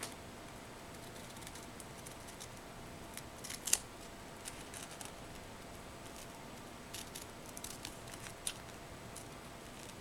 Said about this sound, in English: You're going to cut around your image.